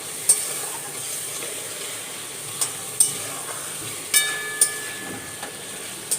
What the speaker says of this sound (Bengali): ফ্রেন্ডস এই যে মশলাটা আমি এখন কষাতে দিয়ে দিয়েছি আলুটা ভেজে ওর মধ্যে দিয়ে দিলাম মশলা আদা আর জিরে বাটা আর লঙ্কা বাটা